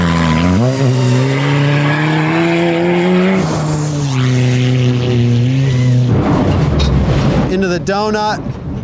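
A front-wheel-drive rally car spins a donut, its engine loud and close with rising and falling revs while the tires skid and squeal, ending in a harsh burst of tire noise.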